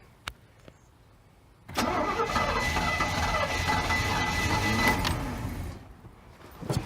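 A boat engine on a cheap boat with a cracked block is cranked, then runs with a loud steady mid-pitched drone for several seconds before cutting back, with a few faint clicks before and after.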